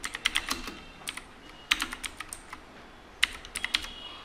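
Irregular clusters of crisp keystrokes on a computer keyboard, close and clear, with short pauses between bursts and no talking.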